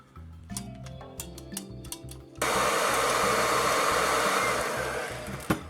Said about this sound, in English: simply heat up with a hairdryer and then push down back onto the peg